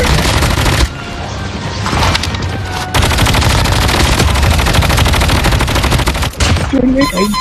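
Gunfire in a shooting video game, with long stretches of rapid automatic bursts that are loud and sustained, broken by brief pauses, and a short tonal game sound near the end.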